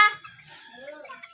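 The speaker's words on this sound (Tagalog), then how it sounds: "Ha, manok?" Chickens cluck in short, moderately loud bursts over about a second and a half, with voices talking alongside them.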